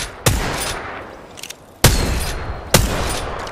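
Gunfire in the video game Apex Legends: three sharp, loud shots spaced over a few seconds, each followed by a decaying echo and a lingering roar of game noise.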